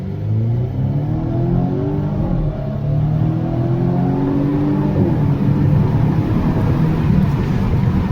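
Volvo V60 Cross Country wagon accelerating hard at full throttle in comfort mode, a loud, steady engine drone with rising harmonics that climb through the gears, heard from inside the cabin with no talk.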